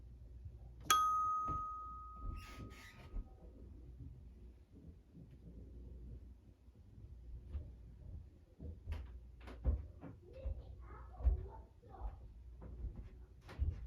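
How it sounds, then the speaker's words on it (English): A single struck tuning fork rings out clearly in a quiet room, its pure tone decaying over a couple of seconds, followed by soft rustling, light handling knocks and faint movement. "Let's conclude it one more time with a ringing of the tuning fork."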